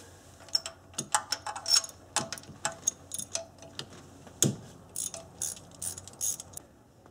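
A ratchet on a long extension and universal joint clicks rapidly in short bursts while working a spark plug on the passenger-side number 4 cylinder of a 4-cylinder Ford Ranger, close and alone without speech.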